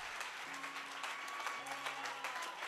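Congregation in a church service clapping and cheering in praise of the Lord Jesus, a steady dense wash of applause with scattered voices rising through it.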